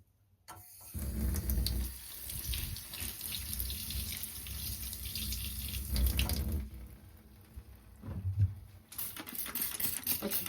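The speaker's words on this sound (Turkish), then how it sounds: "şimdi süngerimi bir yıkayacağım" A cleaning sponge rinsed under a running tap in a bathroom, a steady close gush of water with splashing and squelching changes as the sponge moves through the stream, then brief dripping pauses, no speech.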